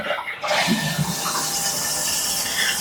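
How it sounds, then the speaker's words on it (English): A Canest smart toilet with bidet, heated seat and auto flush runs a quiet flush, a steady rush of water beginning after a brief pause and holding evenly at close range with no talking. "Now we have it on, flushing. You can hear it's nice and quiet, not very loud at all."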